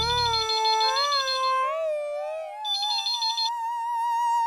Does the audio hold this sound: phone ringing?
yes